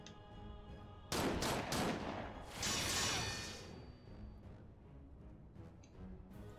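Gunfire in Final Fantasy 14: Heavensward comes as a sudden loud burst of shots followed by a second volley, with whooshing and crashing impacts, then a quieter tail with faint scattered hits.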